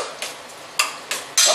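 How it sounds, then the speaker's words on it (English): A spoon works through salmon patty mixture with crackers, giving a few sharp scraping strokes against the bowl in an uneven rhythm, close and fairly loud. "Stir it up."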